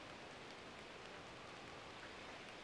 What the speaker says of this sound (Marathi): पाऊस पडतोय बाहेर.